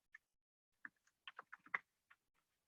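Typing on a computer keyboard: a short, quiet run of scattered key clicks, close and irregular, with no voices.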